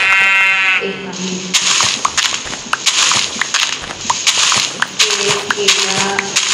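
Goat bleating in a Minecraft-style block survival game, a wavering, nasal bleat at the start followed by clicky block-breaking and thumping game sounds, with someone talking over much of it.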